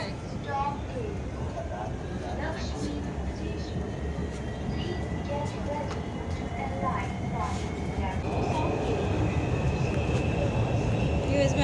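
Steady rumble and rolling hum of an Orange Line metro train in Lahore heard from inside the carriage, continuous and fairly loud throughout, with faint chatter and clatter underneath.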